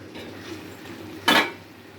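A spoon stirs ground coriander and garam masala into chicken curry in a pan. A single brief metallic scrape and clink stands out over quiet kitchen background.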